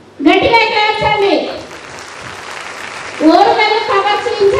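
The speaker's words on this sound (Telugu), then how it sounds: "సో రాణి రుద్రమాదేవి వాళ్ళు గట్టిగా క్లాప్సండి" A team of schoolchildren claps loudly, a dense burst of hands in the middle, framed by the children's loud chanting voices at the beginning and end.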